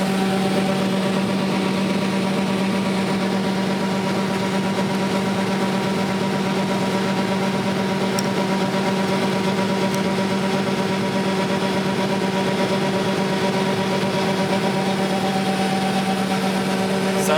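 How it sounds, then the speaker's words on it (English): A farm engine at full throttle during a bean harvest drones loud and constant throughout, a steady mechanical hum with no letup and no voices. "Now you can full throttle if you want."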